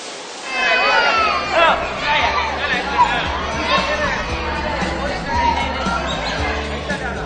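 A temple crowd fills the space with a dense, steady babble of many voices, shuffling and echoing movement close by and all around.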